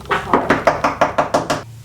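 Eight quick, evenly spaced knocks on a hotel room door during Paris Fashion Week, close and fairly loud, with no talking.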